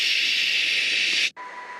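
Steady loud hiss of white noise resembling the sound of a dead cell, a broad even rush that cuts out briefly near the end and returns slightly quieter with a faint tone.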